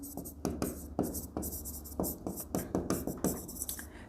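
Pen writing out a company accounts answer on paper gives a series of soft, close scratching strokes in an irregular rhythm, with brief pauses between words.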